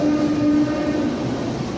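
A Pune local commuter train runs with a steady rumbling roar heard from inside the carriage, a sustained horn tone sounding briefly near the start.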